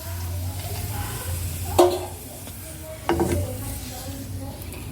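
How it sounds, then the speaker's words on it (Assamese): Panipuri puris (puchka) fry in oil with a soft, continuous sizzle and bubbling, broken by a couple of sharper clinks or scrapes, heard fairly close with a low hum underneath. "এনেদৰে বাকীকেইটা গোটেইকেইটা ভাজি ল'ম"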